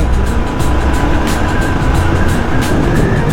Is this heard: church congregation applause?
no